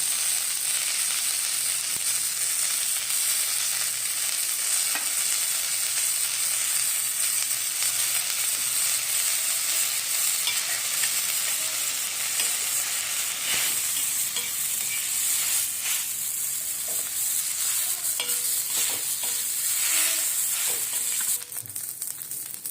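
Steady, loud frying sizzle as coriander leaves and onion roast in a pan, with continuous stirring and occasional scrapes against the pan, unbroken for a long stretch, no talking.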